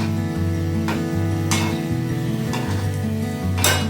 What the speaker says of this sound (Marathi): मी आता 4 टाकत आहे ह्याच्यामध्ये तेलामध्ये. ते किती छानपैकी भाजतं ते बघा.